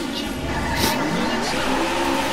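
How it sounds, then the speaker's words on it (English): Race car engines rev hard at the start of a Daytona USA arcade racing game, a loud, dense high-pitched engine whine with rising pitch sweeps, tire noise mixed in. "Gentlemen, start your engine!"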